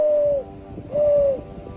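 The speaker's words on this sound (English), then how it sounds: "when you hear a mourning dove's familiar cooing" Two soft, hollow cooing notes from a mourning dove, evenly spaced, with faint low background rumble between them.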